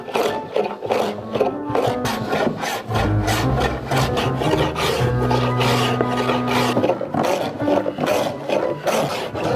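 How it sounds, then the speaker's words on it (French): A hand plane shaves solid ash wood in repeated long, rasping strokes, close and loud, each pass a rough sliding roar followed by a short pause, with no voices. "On va faire ça avec le rabot"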